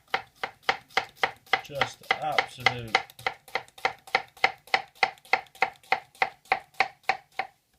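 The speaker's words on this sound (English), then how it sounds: "The dreaded slicing of an onion." A Takamura 210mm gyuto chef's knife chops an onion on a board in a steady, even rhythm of crisp, sharp knocks, close and clear, with a brief spoken aside partway through.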